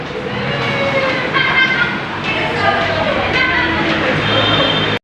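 An LRT light rail train rumbles and rattles steadily along the rails, with people's voices and crowd chatter mixed in nearby until it cuts off abruptly.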